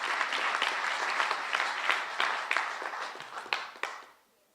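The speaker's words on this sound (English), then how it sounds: "So let's give them a round of applause." Crowd at a live homecoming event for a teen released from ICE detention bursts into applause, dense clapping with sharp individual claps standing out, then fading out quickly near the end.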